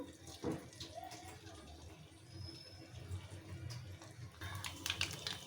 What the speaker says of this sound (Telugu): నేను డీప్ ఫ్రై సరిపోయేంత ఆయిల్ పోస్తున్నాను